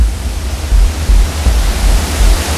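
Roaring waterfall at Pas du Roc swollen with snowmelt, a loud, steady broadband rush with low rumble and gusts of wind buffeting close by, no voices.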